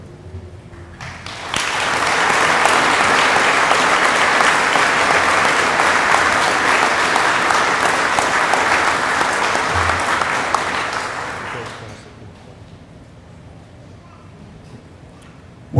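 Police academy graduation crowd applauding an instructor award winner; dense, loud, sustained clapping runs for about ten seconds, then stops abruptly, leaving a quiet hall.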